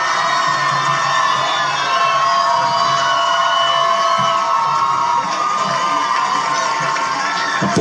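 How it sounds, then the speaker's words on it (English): Student fans of the Godinez Grizzlies cheer and shout during the final seconds of a CIF Southern Section Division 4 high school soccer final, a loud sustained roar with whoops and high voices from a large crowd. "Godinez Grizzlies cheering."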